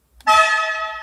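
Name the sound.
Ferrari F512M car horn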